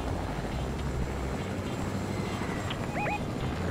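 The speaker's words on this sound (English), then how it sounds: "Are you gonna land this helicopter so we get out of here?" Helicopter in the Fortnite video game, a steady, fairly loud rotor and engine drone with low rumble and airy noise that holds constant throughout, with a couple of brief high electronic chirps near the end.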